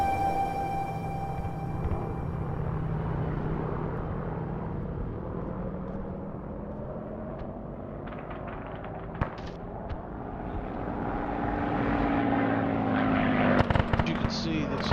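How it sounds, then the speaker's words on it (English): A Russian propeller plane flies over a Stalingrad battlefield in a WWII video game, its engine drone sweeping and shifting in pitch as it passes, with scattered gunfire cracks toward the end. "A Russian plane coming in."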